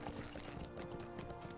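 Horse hooves clip-clop steadily during a ride in the online game Lord of the Rings Online, a quiet rhythmic trot with no voices over it.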